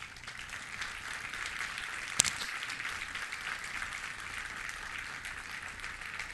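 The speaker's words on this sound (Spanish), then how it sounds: "Denle un aplauso a Dios." A church congregation applauds a sermon at a steady level throughout, with one sharper clap rising briefly above the wash of clapping.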